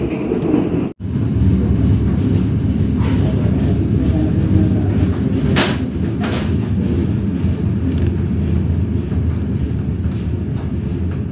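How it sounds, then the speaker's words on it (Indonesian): KA Mataram passenger train moving off from Kroya station, heard from inside as a continuous loud rumble of wheels and carriage with occasional clacks and a brief squeal. "KA Mataram kembali diberangkatkan dari stasiun Kroya, Kabupaten Cilacap jam 3 lebih 9 menit."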